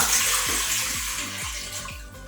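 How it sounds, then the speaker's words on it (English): Three cups of water pour into a rice maker for coconut rice in a steady, rushing splash, with faint rhythmic low thumps underneath and no voices. "pour in your 3 cups of water"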